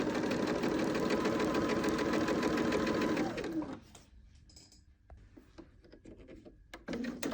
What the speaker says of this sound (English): I'm going to put my presser foot onto the fabric and sew it across